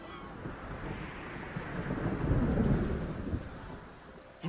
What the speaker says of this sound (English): Terrible storm came upon them.